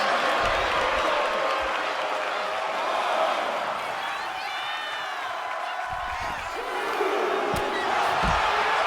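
A wrestling crowd at a Friday night show cheers and applauds steadily as a wrestler comes off the top rope and stomps through an opponent's chest, with thuds of impact under the continuous roar and a commentator talking over it.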